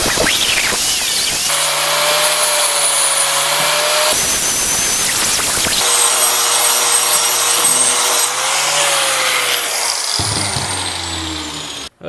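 Angle grinder fitted with an old, worn disc grinding hardened body filler and foam on a rusted car body, a loud, continuous high whine that changes pitch with load, close and dominant, ending abruptly as it stops.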